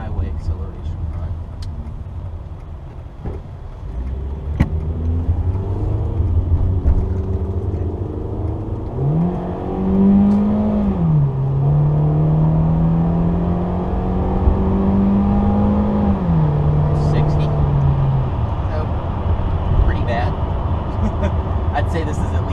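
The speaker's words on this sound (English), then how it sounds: "Go ahead and do a tiny little highway acceleration run." A 1999 Volkswagen Beetle 2.0 GLS with an automatic gearbox accelerates on a highway, its engine note climbing and shifting under steady road and wind roar, close and continuous. No one speaks.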